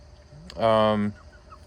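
A chicken lets out a single short, nasal squawk, clear and nearby against a quiet background.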